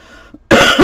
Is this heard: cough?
yes